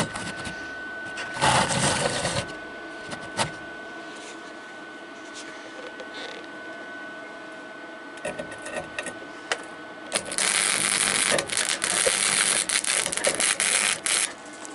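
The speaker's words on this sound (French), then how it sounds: "Moi je fais du point par point parce que j'ai du mal à faire le cordon." A welder tacks a metal TV stand spot by spot, making loud crackling, buzzing bursts, one short and one longer, separated by quieter stretches of faint workshop noise, all close up.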